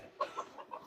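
An older homestead hen clucks in a few short, close, moderately loud bursts inside a coop, with no talking over them.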